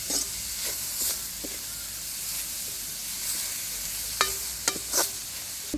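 Leeks and carrots sautéing in a frying pan in a home kitchen for rolls, a steady soft sizzle with occasional clinks and stirring scrapes, fairly quiet throughout with no talking.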